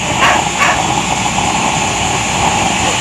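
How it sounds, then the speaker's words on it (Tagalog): Several dogs barking near a used-oil nozzle burner stove, a couple of short sharp barks early on over a steady roaring hiss from the burner. "Pasensya na sa mga aso mga bossing, masyadong maingay."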